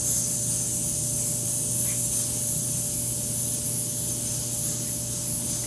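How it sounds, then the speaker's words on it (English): Cooking spray hisses steadily onto bread pans in a camp kitchen, one continuous close, loud spray lasting several seconds with no pauses. "We're going to spray them real good with a spray."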